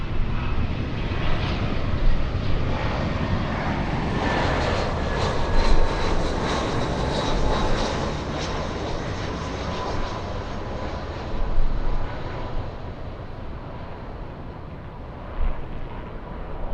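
A United Airlines Airbus A319 arriving to land gives a continuous loud engine roar with a whining tone, swelling as it passes near, with occasional gusts of wind buffeting the microphone.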